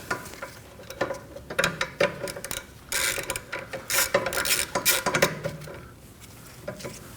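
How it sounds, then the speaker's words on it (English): Up close, a ratchet with a 12mm socket works the caliper bracket bolts on a Kia Optima, clicking in quick, irregular bursts. Brief metallic clanks of tools fall between the clicks, and there is no speech. "Now we're gonna remove the caliper bracket, and for that we're gonna use a 12mm socket."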